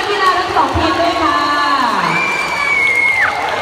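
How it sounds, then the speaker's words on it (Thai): A crowd at a chairball match cheers and shouts for both teams, loud and continuous, with children's shouts and whoops standing out above the general noise. "ขอเสียงปรบมือให้กับนักกีฬาทั้งสองทีมด้วยค่ะ"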